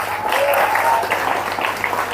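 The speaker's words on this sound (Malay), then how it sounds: "Kita berikan tepuk tangan semua." An audience applauds at a Maulid religious lecture held in a school, with dense, steady clapping filling the room for a couple of seconds. Faint voices are mixed in with it.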